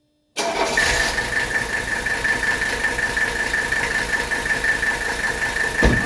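A 1983 Mercedes 300TD diesel engine cranks briefly, catches, and settles into a steady, close, loud clattering idle with a constant whine, running evenly to the end.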